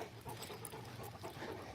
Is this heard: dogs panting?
yes